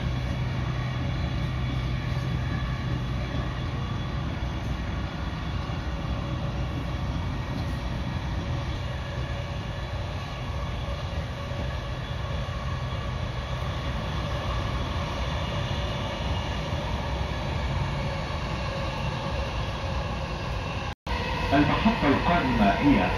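A Dubai Metro train runs between stations, giving a steady, loud rumble and rolling hum of the carriage throughout, with a brief break near the end followed by a sharper burst of rail noise.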